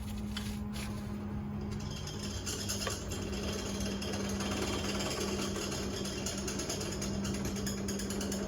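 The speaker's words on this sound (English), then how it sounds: "Here's a drill press in the background." A drill press runs in a workshop where TIG welding is underway, giving a steady, continuous mechanical hum with faint rattling throughout.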